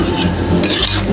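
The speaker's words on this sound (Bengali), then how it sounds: "এবার আমি এর মধ্যে এঁচোড়টা দিয়ে দিচ্ছি।" Boiled raw jackfruit tossed into cooked spiced masala, loud close scraping and stirring against the pan with a steady sizzle underneath, no voices.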